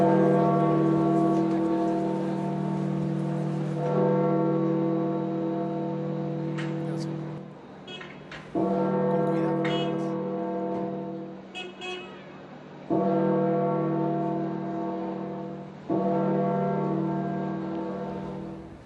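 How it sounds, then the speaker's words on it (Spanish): The large bells of St. Peter's Basilica in the Vatican toll for the death of Pope Francis, with long ringing tones that sustain and decay and are struck again several times, and brief voices are heard between the strokes. "de esta forma fue como las campanas de la Basílica de San Pedro anunciaron la muerte del Papa Francisco"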